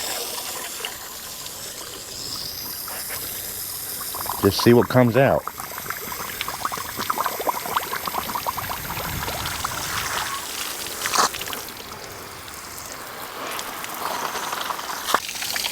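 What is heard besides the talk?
water flushing through engine cooling pipe with hose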